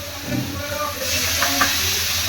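Spices and chilli powder stir-fry in oil in a pan, making a steady close sizzle that swells slightly midway, with a few soft stirring scrapes.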